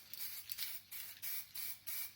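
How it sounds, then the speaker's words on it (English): Spray paint hissing onto a board game box in several short bursts of about a quarter to half a second, separated by brief pauses, close but fairly soft. "the spray paint gives a nice finish"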